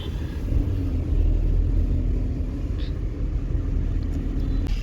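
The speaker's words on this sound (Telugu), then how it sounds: "అగో దేవుడు డబల్ డెక్కర్ బస్సు రా" An air-conditioned double-decker bus passes along a road, its heavy engine making a steady low rumble at moderate distance amid traffic noise.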